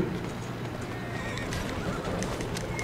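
A horse neighs amid clip-clopping hooves and carriage noise in the Assassin's Creed Syndicate video game on PS4, a dense steady wash of street and movement sounds throughout.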